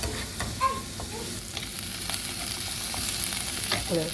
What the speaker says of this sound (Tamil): அதுக்கு நீங்கள் வெங்காயம் வதங்கட்டும். பொரிஞ்சிட்டு இந்த கருணக்கிழங்கு